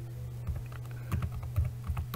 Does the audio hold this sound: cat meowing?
no